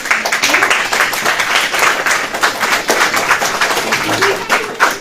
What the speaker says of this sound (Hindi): सबसे पहले हम सब मिलकर प्रभु यीशु मसीह के लिए जोरदार ताली मारेंगे